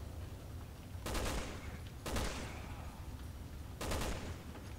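Gunfire in Resident Evil 6, aimed at an enemy, comes as three distinct loud shots about a second apart, each with a sharp crack and short echoing tail over a low background rumble.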